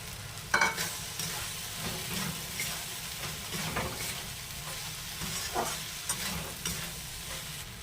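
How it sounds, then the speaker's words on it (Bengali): Fried soybean chunks and diced raw onion are stirred in a hot pan, a continuous sizzle broken by repeated scraping strokes of the spatula, close and fairly loud with no talking. "ভেজে রাখা সোয়াবিন দিয়ে দিয়েছি।"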